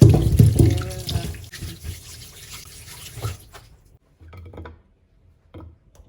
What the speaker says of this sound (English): Then I'm just going to wash this inside the water.